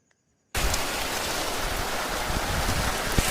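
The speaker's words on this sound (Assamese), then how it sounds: "বৰষুণ বাৰিষা বতৰ, বৰষুণ" Monsoon rain starts abruptly and pours down steadily as a dense, loud hiss on the street outside a shop. It holds an even roar throughout after the sudden onset.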